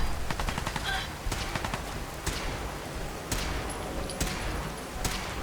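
Rapid automatic gunfire from a shooter video game set in a hotel, with dense bursts and sharp single shots crackling continuously at close range, no talking over it.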